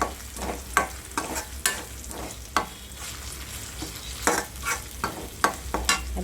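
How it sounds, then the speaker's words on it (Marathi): Onions fried with spice masala sizzle in a pan while a spoon stirs, giving a close, busy crackle broken by sharp scraping knocks at irregular intervals. "कांदा भाजून झाला त्यात आपला हा मसाला आपण ॲड करायचा आता"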